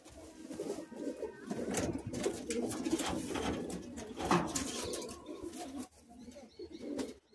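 Madrasi pigeons cooing together in a loft, a dense, continuous layer of low coos and murmurs with occasional chirps and a brief wing flutter, close and fairly steady.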